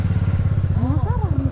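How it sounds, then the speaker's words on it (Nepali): A motor scooter idles close by with a steady low rumble and faint clatter as it is parked outside White Gumba in Kathmandu, Nepal, while a person speaks over the engine. "अब स्कुटर यहीँ राख्नु, यहीँ राख्नु स्कुटर"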